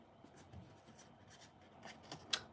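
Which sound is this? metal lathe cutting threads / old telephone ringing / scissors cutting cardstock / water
scissors cutting cardstock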